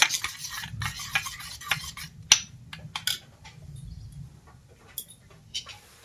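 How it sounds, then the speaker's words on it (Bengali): Turmeric and other spices are mixed into a paste with a utensil, giving close, intermittent scraping and clinking taps against a bowl, mostly quiet with a few sharper knocks. "ভালো করে পেস্ট করে নিচ্ছি সমস্ত মশলাগুলোকে একসাথে দিয়ে"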